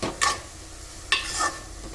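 A spoon stirring curry in a pot after salt is added, two quick scraping strokes against the metal a second apart over a low background hiss; no talk.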